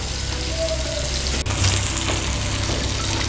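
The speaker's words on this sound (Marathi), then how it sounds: "मीडियम गॅसवर बोंबील छान शॅलो फ्राय करून घ्यायचे आहेत" Bombil fish shallow frying in a pan over a medium gas flame, giving a steady close sizzle throughout with one brief sharp click partway through.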